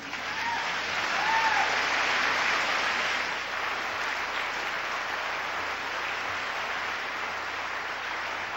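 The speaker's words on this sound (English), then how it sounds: "A round of applause for Dr. Billy Martin" An audience applauds at a brain awareness lecture on music and the brain, a steady, even patter of clapping from a seated crowd that holds at a constant level throughout.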